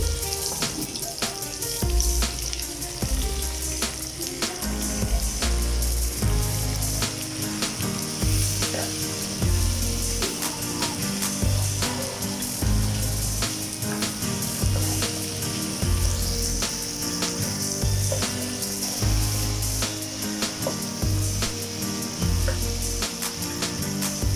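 Beef karahi sizzles loudly in a pan as chopped tomatoes are added to the browned meat, a constant close crackling hiss with occasional stirring clatter.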